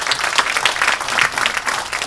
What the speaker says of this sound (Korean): 제가 당의 화합과 통합의 적임자라고 감히 말씀드리면 박수 한번 주십시오.